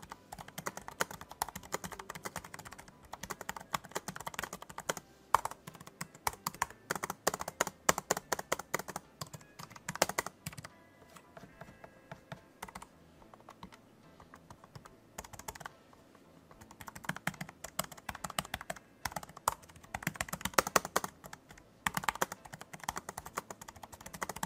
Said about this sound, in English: Let's go ahead and do a typing test and see how the keyboard sounds.